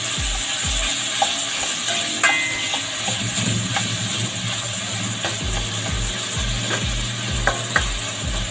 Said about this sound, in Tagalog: Hintayin po natin na maluto ng todo yung ating kamatis